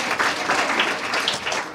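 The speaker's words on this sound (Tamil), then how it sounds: "கையில தட்டுறோம் எல்லாரும், விசுவாசிக்கிறாங்க கைதட்டுங்க" A church congregation claps hands together at a sixth-anniversary service, a dense, steady wash of applause filling the whole moment without pause.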